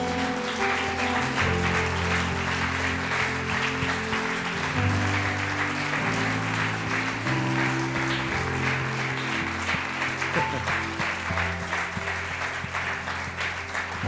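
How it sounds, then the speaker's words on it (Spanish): A church congregation at a Spanish-language worship service applauds loudly, sustained clapping from many hands filling the room with steady, dense applause. "Démosle un aplauso bien fuerte al Señor."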